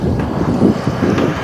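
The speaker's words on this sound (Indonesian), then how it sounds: "Oh, angin sangat kencang teman-teman." Strong wind roars into the microphone outdoors beside a long-arm excavator dredging mud under a bridge, a loud, rough, continuous buffeting rumble that swells and dips over a second and a half.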